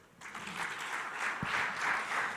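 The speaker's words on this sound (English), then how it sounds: "One more time, a round of applause." Sustained crowd applause fills a hall at a students' grand awards ceremony, steady and fairly loud for the whole stretch, with one brief low thump partway through and no speech.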